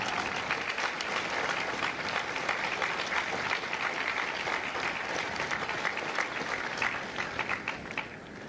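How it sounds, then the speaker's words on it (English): Sustained audience applause at a Marine Corps recruit graduation for Lima Company at MCRD San Diego, a dense, steady clapping from a large crowd lasting throughout and tapering slightly at the end. "please join me in a round of applause for the officers, the drill instructors, and the families of Company L."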